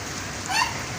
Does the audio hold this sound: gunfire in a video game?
no